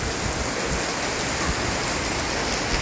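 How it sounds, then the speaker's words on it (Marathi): Steady rain falling in Pune, the first rain of the season, a continuous dense wash of drops hitting surfaces, loud and uniform throughout with no voices. "पाऊस चालू आहे पुण्यामध्ये"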